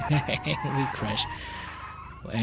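BeamNG car crash on a busy highway, a short burst of tire skidding and squeal with engine noise, loud and close, while a person talks over it.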